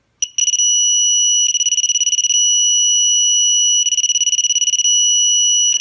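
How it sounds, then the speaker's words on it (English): A digital torque wrench sounds its alert on reaching 30 foot-pounds: loud, shrill, continuous electronic beeping that pulses in two rapid bursts between steady tones. "And it tells you the reading and tells you that you've gotten where you want to go, and it alerts you."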